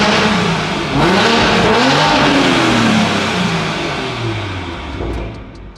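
BMW M340i with its B58 turbocharged six-cylinder engine revving hard, the pitch rising and falling through several surges with a long turbo spool, heard loud and close, fading slightly at the end with a few faint ticks.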